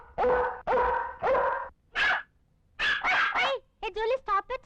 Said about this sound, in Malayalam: പട്ടിയെ പിടിച്ചേ